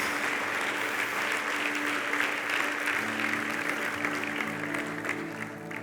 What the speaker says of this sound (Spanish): Sí, dale un fuerte aplauso a Él.